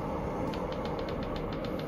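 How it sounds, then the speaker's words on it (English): Xbox console running Metro Exodus gives off a steady, faint fan whir heard up close. A soft rhythmic ticking pulses over the constant noise. "It sounds like an Xbox 360."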